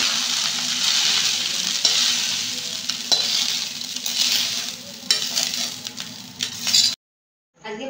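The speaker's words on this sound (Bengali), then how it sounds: "বাকিটা হালকা ভেজে নামিয়ে নেব" Rice being lightly fried in a pan for Bengali fried rice gives a loud, steady sizzle with scraping stirs throughout, then cuts off abruptly to near silence for the last second.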